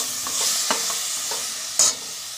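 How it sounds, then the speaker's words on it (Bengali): Chicken being stirred in a pan for soup, with soft spatula scrapes and light sizzling. There are a few brief strokes, including one sharper scrape, over a quiet, steady frying hiss with no talking. "এবার নেড়ে নেবো চিকেনটাকে।"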